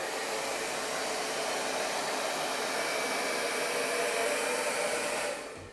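A hair dryer set on low blows steadily over wet paint, a loud continuous airy whoosh holding for several seconds before cutting off at the end.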